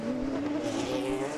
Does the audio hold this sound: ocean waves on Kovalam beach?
no